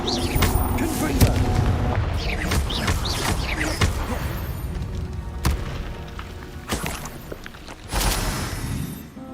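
Booming blasts and thuds from the Confringo fire spell in the Hogwarts Legacy game punctuate a busy, loud combat scene, several sharp impacts landing amid constant battle noise and spoken voices.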